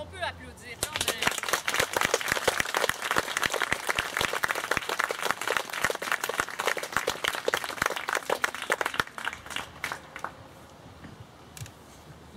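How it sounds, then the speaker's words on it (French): Wedding guests break into dense, lively applause that holds steady for about nine seconds before thinning out to a few scattered claps, with faint talk underneath. "C'est bon, on peut applaudir quand même."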